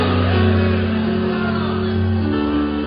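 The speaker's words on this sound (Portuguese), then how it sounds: "Quem pode dar um grito de glória a Deus" A church congregation lets out a loud, sustained collective shout of praise to God, a dense, steady roar of many voices holding for about three seconds.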